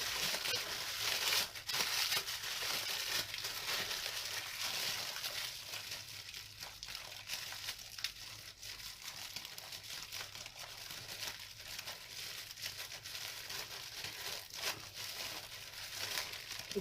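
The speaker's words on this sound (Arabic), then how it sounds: "الكيس اهو مليان ملح ازاي. هبتدي ان انا احاول اطلع الهواء واضغط كده، اربطه بقى كويس." Plastic bag packed with salt crinkling and rustling steadily as air is squeezed out and the bag is tied, a close, continuous rustle for the length of the clip.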